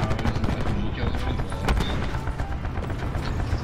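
Rapid SMG fire rattles through a Call of Duty: Black Ops 4 multiplayer match, dense bursts of gunshots and mechanical clatter filling the mix, with voices talking over it.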